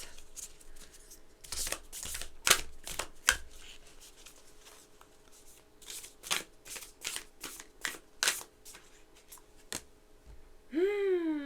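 Magdalene Oracle cards shuffled by hand in a series of crisp riffling bursts with short pauses between, close and fairly soft, with a brief tonal sweep at the very end.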